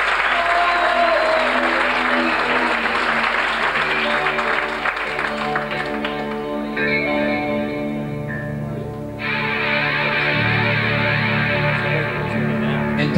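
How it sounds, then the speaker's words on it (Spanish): Crowd applause at an outdoor show rolls on continuously and loud, mixed with heavy reverberant effects and sustained tonal sound from the stage system. "Un aplauso."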